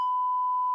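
A single steady electronic beep at one unbroken pitch holds for almost a second, loud and clean, with no voices or other sounds around it.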